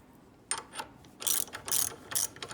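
A socket ratchet chases the bolt threads on a 1941 Buick Special front seat, its pawl clicking in several quick, close bursts of ratcheting with short pauses between strokes.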